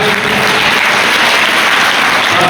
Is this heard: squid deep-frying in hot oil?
no